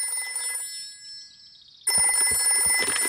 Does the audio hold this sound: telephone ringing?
yes